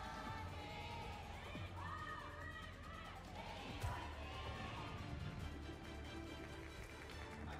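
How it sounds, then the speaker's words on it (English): A crowd at a Korean Overwatch 2 esports LAN final chants and shouts, rhythmic group cries and whoops rising and falling, heard fairly faint in the background under a commentator's voice. "those fighting chants from the crowd"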